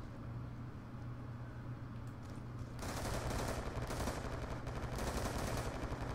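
Gunfire in Call of Duty Black Ops 2 multiplayer, rapid automatic bursts that kick in loudly midway and continue in repeated volleys over game background noise.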